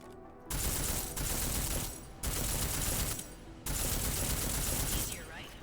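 Armor-piercing gunfire in the Deus Ex: Mankind Divided bank level, heard as three loud sustained bursts of rapid shots separated by brief pauses, with some game sound beneath.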